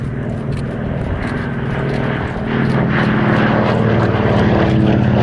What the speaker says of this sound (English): It's just a beautiful aircraft, isn't it?